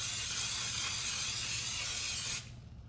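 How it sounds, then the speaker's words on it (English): Cooking spray, the kind with a little flour in it, hisses steadily onto cookie baking pans in one continuous close burst lasting over two seconds before it cuts off sharply, and there is no talking. "So we're gonna go ahead and spray down the pans."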